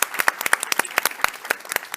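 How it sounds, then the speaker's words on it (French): Applause at a conference on women's health policy, prevention and access: a small audience claps in a brisk, fairly sparse rhythm of distinct close claps for about two seconds. "On applaudit, s'il vous plaît"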